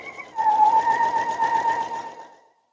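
A sewing machine stitches the fabric casing of a gift bag, a close steady mechanical whir with a fast even stitching rhythm for about two seconds before stopping.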